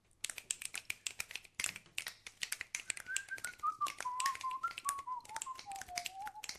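Dense, rapid finger snapping plays the tune of a song as a group's rhythmic clicking performance, and partway through a whistled melody line joins in over the snaps.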